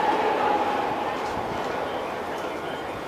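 The Narita Express train at an airport-terminal railway station in Tokyo, heard as a loud, steady rushing rumble that fills the platform, with indistinct voices mixed into the noise.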